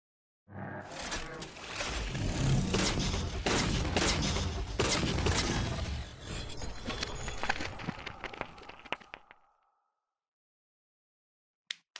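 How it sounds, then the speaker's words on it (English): Rapid bursts of binary rifle fire from the Halo 4 video game, loud dense crackling volleys lasting several seconds before trailing off into silence, with a couple of sharp clicks at the very end. "this is what the actual binary rifle sounds like from Halo 4"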